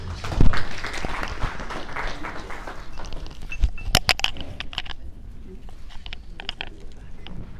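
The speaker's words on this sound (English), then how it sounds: "And a big round of applause to all of them." Applause from the audience at a private sector forum breakfast launch in Uganda: dense clapping at first, thinning into scattered individual claps toward the end.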